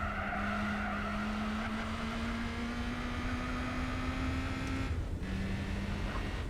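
Tires skid steadily on a car driven around the Nordschleife in Gran Turismo 4, with a sustained squeal and engine tone that drops out near the end of the run and then returns. The sound is continuous and moderately loud.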